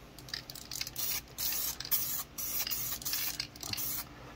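Two-part epoxy primer hisses from a spray can onto aluminum wheels in a run of short and longer bursts with brief gaps, close and steady, with no talking.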